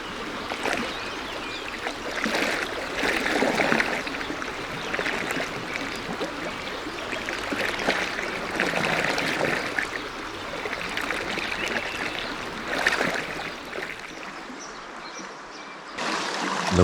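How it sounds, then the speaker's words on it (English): River in New Zealand rushing past a log, a continuous close wash of flowing, gurgling water with no voices, easing slightly before the end. "There's a log down there and it creates quite a nice, interesting texture with the background river running."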